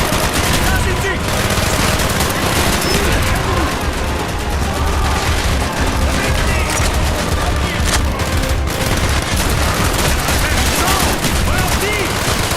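Sustained automatic gunfire and rapid bursts rattle almost continuously through a Call of Duty: Black Ops mission, dense and loud, with shouted soldier voices buried in the battle noise.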